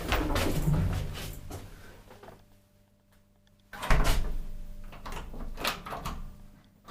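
Doors of a 1974 Siemens traction elevator in a Danish apartment building slide and thud, with a rumbling movement, a quiet pause, then another loud burst of door motion and mechanical clatter.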